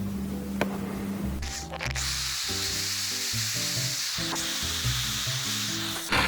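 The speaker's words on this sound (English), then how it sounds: "I'm going to take the drill and drill into pilot holes." A power drill whirs in short bursts with shifting pitch, the motor speeding and slowing as it bores pilot holes, close and fairly loud.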